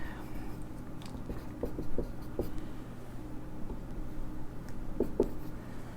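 Pen scratching on paper while sketching a coordinate geometry diagram for a Class 10 distance and section formula lesson, with soft intermittent strokes and taps over a steady low room hum, no speech.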